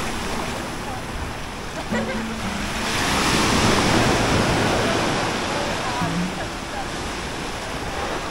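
Ocean surf at Labuan Sait beach in Uluwatu, Bali, a loud, continuous roar of breaking waves with wind buffeting the microphone; the wash swells slightly midway.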